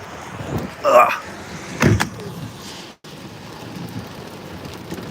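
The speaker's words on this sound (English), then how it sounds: "Here comes the heavier rain." Heavy rain on a storm-chase vehicle during a Central Plains thunderstorm makes a steady close drumming wash across the whole clip, with brief louder bumps and noises inside the car.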